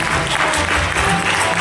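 An audience claps loudly and steadily throughout a comedy juggling act, a dense continuous applause with no gaps.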